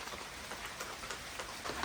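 Rain falls outdoors at a Kerala home, a soft, faint, steady patter with scattered individual drops ticking through it, and nobody speaking.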